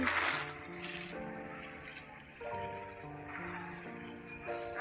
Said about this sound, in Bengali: আর একসঙ্গে 2টো বেডই সমানভাবে জল দিয়ে দিই, যেহেতু মাঝখানে আছি, দুদিকে 2টো বেড, তাই দুদিকে ভিজিয়ে নিচ্ছি।